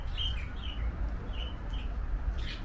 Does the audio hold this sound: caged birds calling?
yes